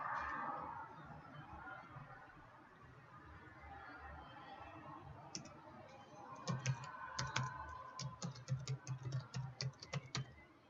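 A command typed at a PowerShell prompt on a computer keyboard: a quiet room tone at first, then a quick run of close, crisp key clicks that grows denser toward the end.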